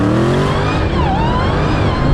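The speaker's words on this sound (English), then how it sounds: "pull both pedals, increase engine speed" A Dodge Challenger Demon and a Porsche 911 Turbo S launch side by side in a drag race, engines roaring loud and close with a steady, rising mechanical howl that fills the short burst.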